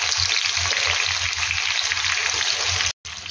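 Onions hit hot oil already spiced with bay leaf, small cardamom pods, cloves and cinnamon for a homemade chicken biryani, giving a loud, steady close-up sizzle that cuts out for an instant just before the end.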